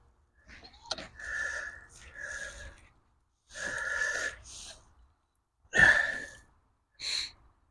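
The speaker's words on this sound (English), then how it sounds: "Sorry for the sniffles." Several short, close nasal sniffles from a person out in the cold at a lake fishing peg, coming in separate bursts with quiet gaps between them.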